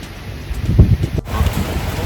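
Gusty wind at a hill resort in Munnar rushes and buffets the microphone in a steady low roar, swelling in a stronger gust midway, with no voices.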